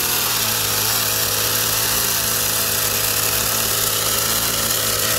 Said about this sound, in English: Daz, you got a chainsaw.